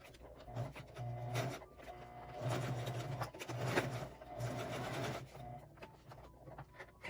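A sewing machine stitches a pleated fabric mask, its motor buzzing in short, uneven runs with rhythmic needle chatter, stopping and restarting close by without any talking.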